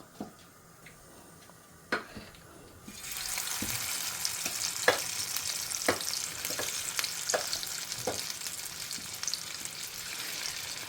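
Stuffed bitter gourd hits hot reused oil after a quiet start, then fries in a steady, bright sizzle with scattered sharp pops and ticks close by.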